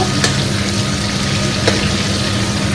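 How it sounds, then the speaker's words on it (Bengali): Meat sizzles in a hot pan, a steady, loud, dense frying hiss with faint crackles running continuously and alone, no talk. "এখানে মাংসটা একটু ভেজে নেব"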